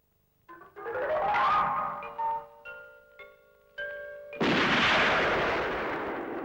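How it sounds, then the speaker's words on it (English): Gunshot from the James Bond gun barrel opening sequence: a sudden loud, broad blast after a few seconds of tonal orchestral notes, its roar holding and slowly decaying to the end. "It starts with the gun barrel sequence"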